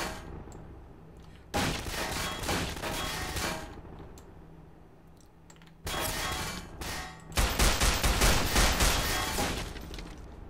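Gunfire in the first-person game Estranged: Act 1 arrives as dense bursts of rapid shots, loud and close, separated by quieter gaps, with no talking.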